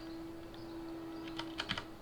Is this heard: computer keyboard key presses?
yes